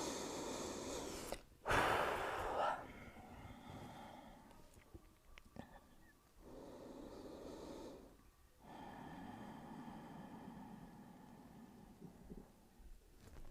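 A person breathes while lying face down in yoga crocodile pose, forehead resting on stacked hands: one loud, close breath early on, then softer, slower breaths in a quiet room.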